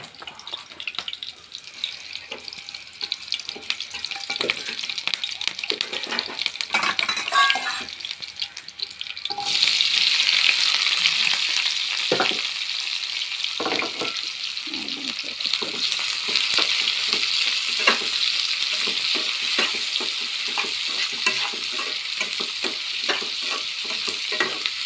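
Country chicken eggs frying in a pan for a gravy curry, a steady bright sizzle with occasional scraping stirs and clinks, growing louder and fuller partway through and continuing alone without talk.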